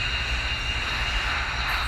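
An Embraer 195 airliner takes off at Key West airport, its jet engines producing a steady, loud, broad roar with a high whine running through it, unbroken and close.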